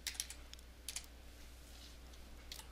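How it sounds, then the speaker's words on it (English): A date is typed on a computer keyboard: a few quick, faint clusters of key clicks with pauses between them, over a low background hum. "let's try typing in a date"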